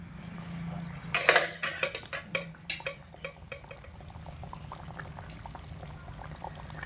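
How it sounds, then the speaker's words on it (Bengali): A small spoon taps and scrapes in a pan as raw mustard oil goes into a simmering mustard-poppy hilsa curry, a quick run of metallic clinks early on that fades into a soft bubbling background. "এবার আমি এর মধ্যে দিয়ে দেব কাঁচা সর্ষের তেল খুব অল্প করে চা চামচের এক চামচ মতো"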